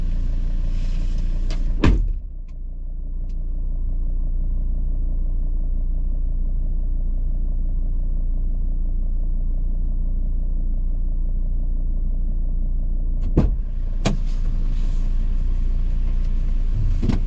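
A car engine drones steadily under load as the vehicle climbs, with a couple of sharp knocks near the start and end.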